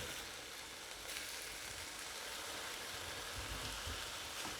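Breakfast sausage patties, made from scratch, frying in a pan with a steady, close sizzle and crackle that keeps going for the whole stretch, with no talking.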